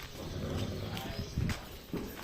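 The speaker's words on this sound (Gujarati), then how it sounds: "હા ઘોડો" A horse's hooves clip-clop on a farm in a few irregular thuds, close by, under steady background noise and people talking.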